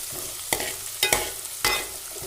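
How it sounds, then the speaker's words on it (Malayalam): Onions sauté in a pan over raised heat for a green gram thoran, a steady sizzle broken by three distinct scraping stirs at close range. "നമുക്ക് ഇച്ചിരി തീ കൂട്ടി വെച്ചിട്ട് കരിയാതെ സവോളയൊക്കെ ഒന്ന് സോഫ്റ്റ് ആകുന്നിടം വരെ ഒന്ന് വഴറ്റിയെടുക്കാം"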